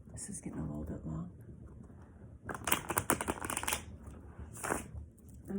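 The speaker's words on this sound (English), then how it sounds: "maybe you could even get some cards and shuffle them. Shuffling is so fun." A deck of playing cards being shuffled indoors, several quick riffling bursts close by, crisp fluttering clatters repeating in short runs under low background sound.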